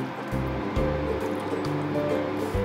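Water left from rinsing a mixer is poured gently into a pan of curry, a close, steady gurgling pour with a low sizzling bubble beneath and no talk.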